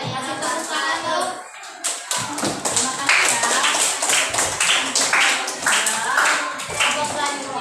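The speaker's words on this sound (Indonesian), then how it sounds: "Kasih tepuk tangan dong." Students clapping in a primary school classroom after a group presentation, sharp uneven hand claps close by, briefly paused near two seconds, with a voice speaking over them.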